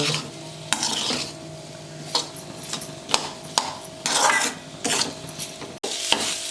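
Salted potato filling for chilli vadas is stirred in a pan, with repeated spoon scrapes and knocks against the metal over a light sizzle, coming in irregular bursts close by.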